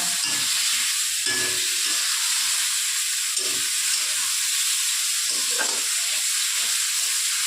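Ground cumin and green chili paste frying in a pan for a light Bengali fish curry, producing a loud, constant hissing sizzle with faint stirring scrapes close by and no speech.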